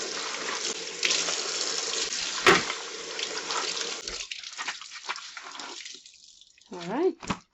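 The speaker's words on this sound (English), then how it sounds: "And wash down your gloves for your next use." Tap water runs steadily into a kitchen sink while gloves are rinsed under it, with splashing changes as hands move through the stream, then the flow cuts off and a voice briefly speaks.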